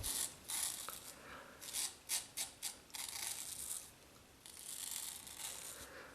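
An Ever Ready SE safety razor drags across stubble in loud, close, rasping strokes, several short scrapes followed by longer continuous passes, no talking.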